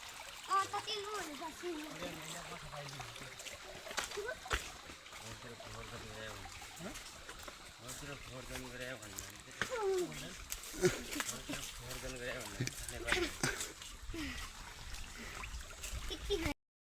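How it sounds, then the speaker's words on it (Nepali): Rising water of a hill river rushing and splashing over its bed, a steady close wash running the whole time while a voice talks over it. "यहाँ खोलाको पानी आएको छ गाइजहरू। यहाँ पानी बढिरहेको छ यार।"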